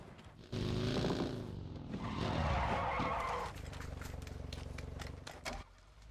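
Car driven in PUBG, engine revving loudly with a drawn-out tire skid and scraping squeal, then settling into a steadier engine drone before cutting off; a voice speaks briefly.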